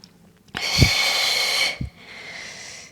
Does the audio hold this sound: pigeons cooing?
no